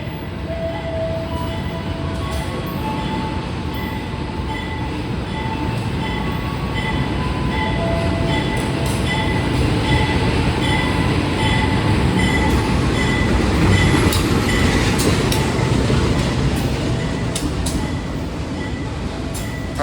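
A KA Logawa passenger train rolls past in Indonesia as a loud, steady rumble of wheels and carriages that holds for about twenty seconds, with faint squeals and tonal hums over the roar.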